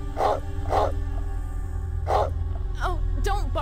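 A dog in the Sega Saturn game Deep Fear barks several times, loud sharp yaps early on, then whiny yips near the end, over a steady low game drone.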